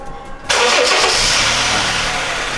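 A car engine cranks and catches after a quiet half-second, then settles into a loud, steady idle that continues without talk.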